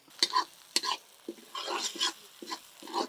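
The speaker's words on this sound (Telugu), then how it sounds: "ఇలా వెల్లుల్లి చక్కగా వేగాలండి." Garlic paste frying in a pan with raw prawns for a Telangana-style prawn fry, a spatula scraping and stirring in repeated strokes over a steady sizzle, close and fairly loud with no voices.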